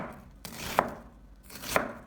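A knife dices an onion on a cutting board, two distinct, close chops about a second apart, each a crisp knock with a short crunch, with quiet pauses between.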